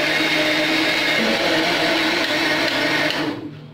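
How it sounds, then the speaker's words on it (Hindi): A kitchen mixer runs loud and steady at its highest speed, blending homemade sweetened condensed milk ingredients, with a continuous whirring drone that cuts off abruptly near the end. "अब हम इसको हाईएस्ट स्पीड पे ब्लेंड करेंगे 20 से 30 सेकंड के लिए"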